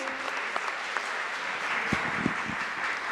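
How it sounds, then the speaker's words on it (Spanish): Audience applause at a parish pastoral social week gathering, a steady clapping wash across the whole stretch with a few sharper individual claps standing out near the end. "démosle un aplauso, animémonos todos"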